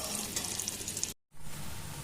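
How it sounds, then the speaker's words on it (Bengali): Potato chunks seasoned with salt and turmeric sizzle in hot oil in a pan, a steady close crackle that cuts out briefly and then resumes. "আলুগুলোকে একটু ভেজে নিচ্ছি।"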